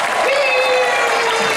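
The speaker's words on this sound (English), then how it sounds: "Let's give a big round of applause for Selena Arvizo, everybody." Loud, close applause from an audience at a theme park anniversary ceremony, a dense wash of clapping with crowd noise and voices mixed in.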